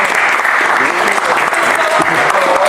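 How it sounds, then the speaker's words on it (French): Crowd applauding an arm wrestling champion at a live event, with steady, dense clapping held for the whole short stretch, loud and close with some voices mixed in. "Allez les gars, on peut l'applaudir déjà."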